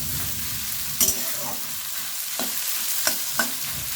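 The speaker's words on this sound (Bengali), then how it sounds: "লবণ না দিয়ে ঝিঙেগুলোকে আগে একটু ভেজে নেব" Ridge gourd pieces frying in mustard oil without salt over high flame, a continuous sizzle broken by several sharp spatula scrapes and clinks against the pan.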